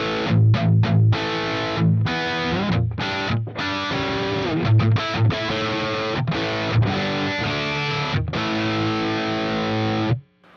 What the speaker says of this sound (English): Now the JHS AT Plus, this is the distortion.